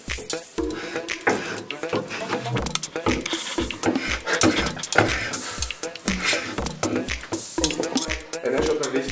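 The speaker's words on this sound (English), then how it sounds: "He's putting some paprika into the heated butter." Paprika sizzles in heated butter for a Bulgarian soup, with steady frying hiss under repeated stirring and clinks of utensils against the pan, close and busy throughout.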